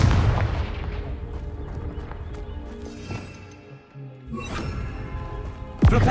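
A Confringo fire blast spell from the video game Hogwarts Legacy bursts out loud and alone, a booming explosive crack with rumbling debris, followed moments later by another sharp blast.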